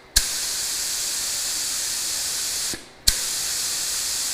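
Paint spray gun test-spraying primer for custom fiberglass side skirts on a Honda Accord, set low in pressure: a loud, steady hissing burst for over two seconds, a brief pause, then a second sustained spray that runs to the end.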